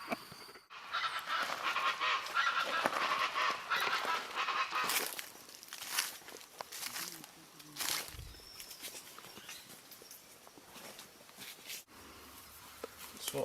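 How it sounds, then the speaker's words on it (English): Geese honk and cackle loudly and repeatedly at a bird breeding spot in Kirstenbosch garden, a busy overlapping chorus close by, with footsteps and a voice speaking faintly in the background. "I wonder if you can hear me because of these birds making noise here"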